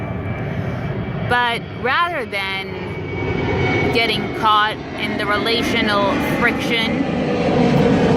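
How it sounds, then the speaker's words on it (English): An airplane passes overhead in the background, a steady broad engine roar that runs through the whole stretch beneath someone talking outdoors. "excuse the plane in the background"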